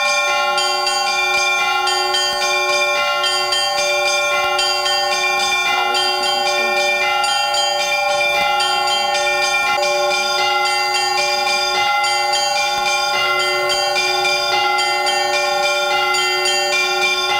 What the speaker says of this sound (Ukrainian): святкові дзвони сповіщували увесь коршів про велике християнське зібрання